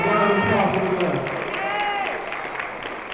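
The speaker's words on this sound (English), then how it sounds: "Round of applause for them." Applause and cheering from a crowd at a community forum on stopping gun violence, a dense wash of clapping with whoops and voices mixed in, steady and fairly loud before easing slightly.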